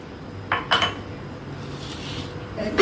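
Chicken chilli fry ingredients are mixed in a pan with ghee. A utensil clinks and scrapes against metal in a few quick knocks, with a louder scrape near the end over quiet background.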